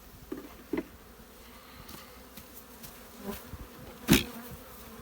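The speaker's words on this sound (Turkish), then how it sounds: "Kovanın içindeki arıları da silkeledi." Honeybees buzz softly around a hive as they are shaken and transferred into a new box, with a few louder knocks and a sharp bump.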